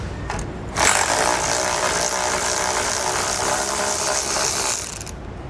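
A ratchet or powered driver spins a 15mm bolt out of the bumper fascia supports of a 2021 Chevrolet Colorado with a close, continuous mechanical whir lasting several seconds before stopping abruptly.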